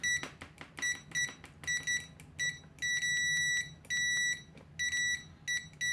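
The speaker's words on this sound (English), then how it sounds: "Checking out continuity, these are the default stock probes." Repeated sharp electronic beeps from a DIGT DT87 budget multimeter on continuity test with its stock probes, coming in short irregular bursts and longer sustained tones, fairly loud and close, with no talking.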